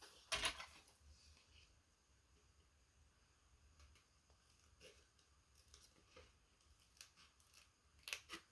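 Scissors snipping paper card strips, a few quiet, sharp cuts at the start and end with faint rustling in between.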